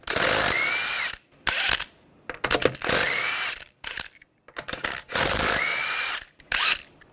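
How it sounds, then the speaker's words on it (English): Power wrench spinning the lug nuts off a 2011–2017 Nissan Juke wheel with a 21mm socket: several loud whirring bursts of about a second each, separated by short rattling ratchet clicks and brief pauses. "Take the lug nuts off."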